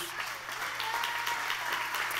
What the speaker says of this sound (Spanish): Dar un aplauso a Dios.